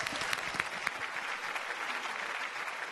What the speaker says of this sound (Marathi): या सगळ्यांसाठी एकदा जोरदार टाळ्या झाल्या पाहिजेत.